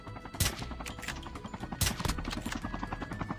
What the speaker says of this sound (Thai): นี่นะผมเอาสไนยิงบอดให้ดูนะ